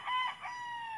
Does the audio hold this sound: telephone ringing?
no